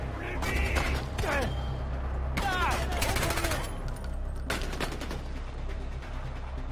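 Bursts of automatic gunfire in the video game Far Cry 4 rattle in several clusters, with sharp, dense volleys that break off between spells, mixed with game effects and background sound.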